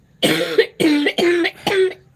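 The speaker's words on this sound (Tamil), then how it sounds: "பேச பேசும்போது இருமல் வந்துடுது" Four hard coughs in a row, each a short rough burst with brief pauses between, close and loud, with no talking.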